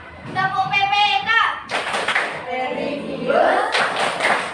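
Children in a classroom perform the Tepuk PPK clapping chant, their rhythmic hand claps mixed with young voices calling out the routine, close and fairly loud throughout.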